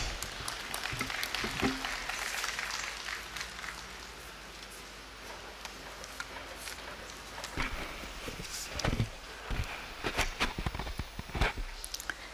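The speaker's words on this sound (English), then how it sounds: "let us all welcome ma'am with a huge round of applause" An audience at a Founder's Day school ceremony breaks into applause, a steady dense patter of clapping lasting over ten seconds with sharper bursts near the end, heard from within the hall.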